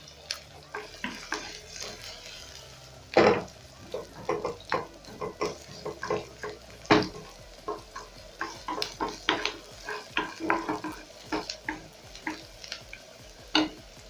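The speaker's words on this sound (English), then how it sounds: "about a tablespoon of cooking oil, and then I'm going to let this become hot too. I'll add in my onions." Onions fry in hot cooking oil in a pan, giving a soft sizzle under repeated scraping and clattering stirs that come as irregular, close bursts.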